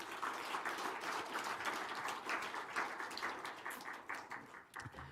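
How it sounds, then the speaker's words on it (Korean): A church congregation at a Sunday service bursts into warm, sustained applause, many hands clapping in a thick, lively wash that stays strong before thinning slightly at the very end. "우리 박수 한번 해주시기 바랍니다."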